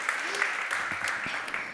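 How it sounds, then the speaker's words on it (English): An audience claps steadily for a couple of seconds, a crowd's applause with a voice faintly underneath. "Give yourself a round of applause"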